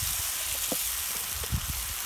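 Gravy for bagara baingan frying in a pan, a steady dense sizzle and hiss with faint stirring clicks underneath, continuous and close.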